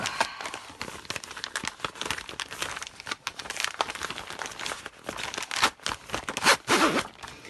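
Plastic ziplock bag holding an embroidery kit handled up close, with continuous crinkling and crumpling that swells in louder bursts near the end; no talk.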